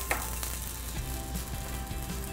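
Steady crackling sizzle of grated ginger frying in hot avocado oil in a pan, close and continuous, with a few faint clicks and stirring sounds.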